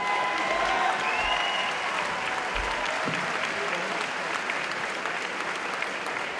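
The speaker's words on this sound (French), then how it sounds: "On applaudit aussi Nicolas Chaussière, s'il vous plaît." A crowd applauds a kickboxer, Nicolas Chaussière, after a pro -75kg French championship bout, with steady, dense clapping filling the hall for the whole stretch.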